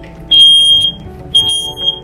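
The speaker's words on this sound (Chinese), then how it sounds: "哇，什么响了？火警响了。" RV smoke alarm sounding indoors, giving two loud, shrill electronic beep bursts about a second apart, close by and with no talking.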